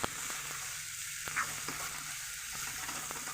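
Steady, close sizzling and crackling of crushed banana flower frying in tempered, spiced oil, with a few soft stirring clicks and no voices.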